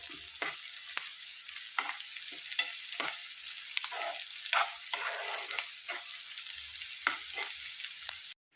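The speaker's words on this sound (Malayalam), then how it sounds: "ഉള്ളി ഇട്ടിട്ട് ഒരു മൂന്ന് മിനിറ്റോളം ആയിട്ടുണ്ട് ഇനി ഇത് ഇളക്കി കൊടുക്കാം" Onions fry in hot oil in a pan for a ginger curry, a constant sizzle broken by repeated close scraping strokes of a spoon stirring them.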